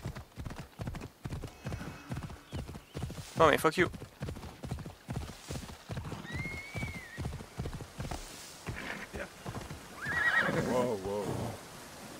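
Horse hooves clip-clop in a steady rhythm with several whinnies and neighs from a mount in the video game Assassin's Creed Odyssey, played on hard mode, while someone talks and curses over the sounds.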